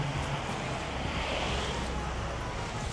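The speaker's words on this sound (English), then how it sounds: "It is a little windy out." Steady wind blowing outdoors beside a gutted, windowless blighted building, a continuous broadband rush with low rumble from wind buffeting the microphone, no voices.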